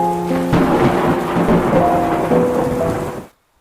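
Steady rain after the sky had cleared, a continuous loud wash of falling water with rumbling undertones, heard under background music and cutting off abruptly near the end.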